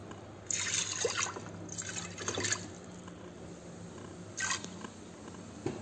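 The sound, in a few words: pouring water into a cooking pot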